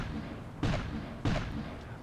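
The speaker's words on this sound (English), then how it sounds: "Yep, that's Cannon." Two heavy booming cannon shots from a ship's battery in a video game, spaced about half a second apart, each a sharp thud with a short decaying tail over a low background hum.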